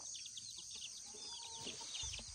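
Chickens and a rooster are heard outdoors, with faint clucks and chirps scattered over a steady hissy background, distant and low in level.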